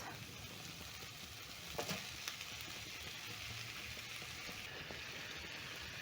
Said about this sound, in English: I'm going to mix in the spices together with the meat until everything is well combined